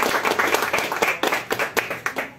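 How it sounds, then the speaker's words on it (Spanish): A modest audience at a writers' colloquium claps, the individual hand strikes distinct and uneven, swelling into a brief round of applause that thins toward the end. "Démosle un gran aplauso a estos grandes invitados."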